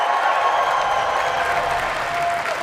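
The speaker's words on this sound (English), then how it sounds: "let's give Matthew Wood one more big round of applause" A crowd bursts into loud, dense applause for a Star Wars sound guest, many hands clapping in a continuous roar that holds steady and close throughout.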